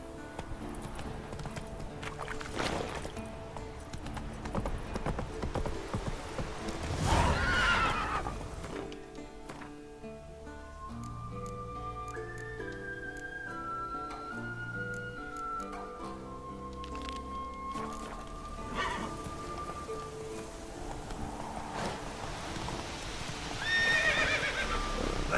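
Roach, Geralt's horse in The Witcher 3 video game, neighs loudly while hooves clop at a gallop, set against sustained orchestral game music, with a second whinny near the end.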